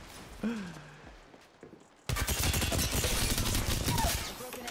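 Gunfire from an Apex Legends match: after quieter game sounds, a sudden loud, sustained burst of rapid shots fills the second half.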